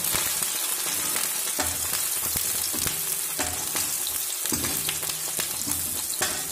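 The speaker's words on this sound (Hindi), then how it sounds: "अब हम इसके अंदर डालेंगे प्याज और हरी मिर्ची, इन दोनों को अच्छे से जो है मिक्स कर देंगे।" Chopped onion and green chili fry in hot oil with browned cumin, sending up a loud, continuous crackling sizzle with occasional stirring clatter.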